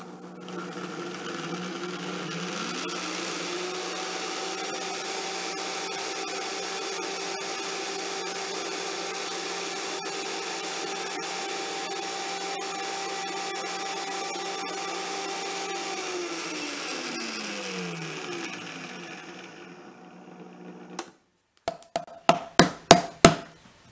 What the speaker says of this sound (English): So I've got them in my Vitamix in the dry container.